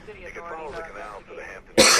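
A person speaks briefly, then lets out a single sharp, loud cough at the end.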